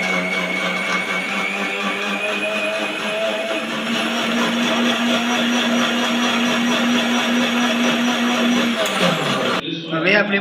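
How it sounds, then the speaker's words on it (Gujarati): A kitchen mixer jar crushes ice with jaggery water and eight to ten leaves, a loud continuous motor whine with grinding rattle that runs steadily, then cuts off abruptly near the end. "હવે આપણે આ ગોળવાળું પાણી અને હવે અંદર બરફ એડ કરીને આપણે મિક્સર જારમાં ક્રશ કરી દઈશું"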